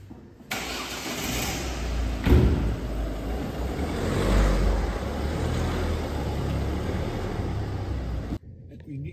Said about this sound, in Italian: salite in macchina insieme a me, andiamo a fare un giro di prova su strada